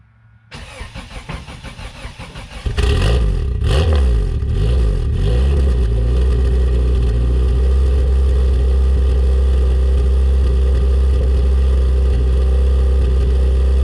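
A 1995 Acura Integra cranks and fires on a cold start, catching with a loud close burst, revving briefly and then settling into a steady, fast idle that holds for several seconds.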